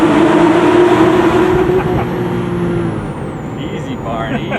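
Inside a 1999-2004 Porsche 996 Carrera fitted with a Fabspeed full exhaust system, a loud, steady engine drone with strong harmonics fills the cabin and eases slightly in pitch and volume partway through.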